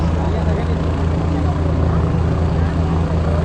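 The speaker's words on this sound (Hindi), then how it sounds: "उनका हेलीकॉप्टर आसमान छूने लगा" Helicopter taking off after a political election rally in Bihar, a steady loud rotor and engine roar with deep throbbing low tones that fills the whole clip without pause.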